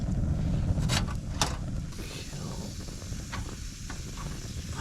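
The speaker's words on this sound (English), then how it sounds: "our rice is boiling over, which means it's time to kill the fire." A pot of rice bubbles and hisses steadily as it boils over on a camp stove, with a few sharp crackles and spits early on, close by and without voices.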